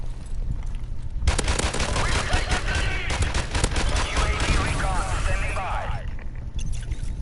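Rapid gunfire from a G3 rifle in the video game Modern Warfare Remastered, a dense fast string of shots from trigger pulls emptying a whole magazine, loud and continuous with game audio underneath.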